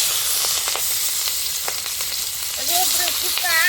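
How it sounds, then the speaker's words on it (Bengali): Fish hisses and crackles as it goes into hot oil in a small wok, a loud continuous sizzle with a few sharp pops, rising slightly near the end. "আমি মাছটা দিয়ে দিচ্ছি।"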